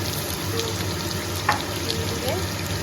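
Masala being fried and worked in a pan gives a soft, steady sizzle with faint stirring scrapes and clinks, fairly quiet throughout.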